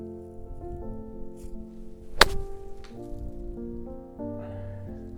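A golf club strikes a golf ball in one sharp, loud thwack midway through, with a soft background hum.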